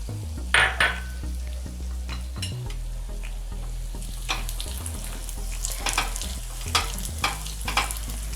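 Chopped cashews fry in ghee for boondi ladoo, giving a steady close sizzle broken by sharp scrapes and clinks of a spoon stirring against the pan.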